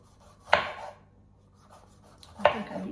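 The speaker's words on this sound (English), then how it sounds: "So I cut my pepper in half. It says to thinly slice it in strips." A knife slices through a halved bell pepper on a cutting board, giving two distinct crisp cuts about two seconds apart, each a short sharp crunch that fades quickly. The cuts are close and fairly quiet, with no voices.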